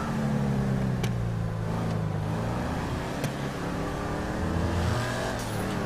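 Video game car driving through city streets, a steady engine drone with small rises in revs and a few sharp clicks, moderately loud and alone without talk.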